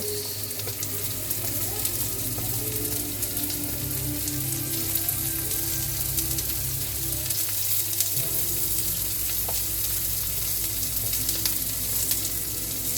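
Onions frying in a pan, a steady, even sizzle running close and continuous throughout with no voices.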